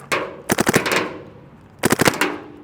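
A Luxe Idol mechanical-frame paintball marker fires two rapid bursts of sharp, loud pops, each a tight string of about five shots, with a short ringing pause between the volleys and no talking.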